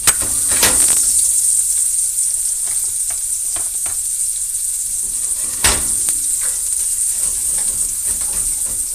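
Shallots frying in a hot pan, a steady close hiss of sizzling oil with scattered clinks and scrapes of stirring and a sharp knock partway through, no voices.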